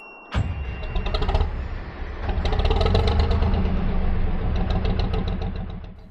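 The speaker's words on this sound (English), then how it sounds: "I was also having trouble getting the engine started" A narrowboat's diesel engine on the Oxford Canal struggling to start: a sharp click, then a labouring, uneven cranking rumble that rises and sags for several seconds without catching cleanly.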